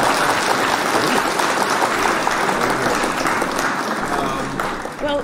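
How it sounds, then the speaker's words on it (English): A canned applause effect plays loud and continuous on a livestream, a dense wash of clapping lasting a few seconds before tailing off. "I'm hitting the claps for Helen"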